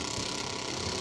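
A drag racing car idles at the starting line of a bracket racing event, a steady, dense mechanical chatter with a clicking, ratchet-like texture that holds evenly for about a second.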